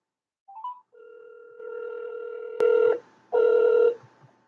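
Telephone line sounds alone: a short two-note beep, then a steady dial tone, followed by two loud ringback bursts with a pause between them.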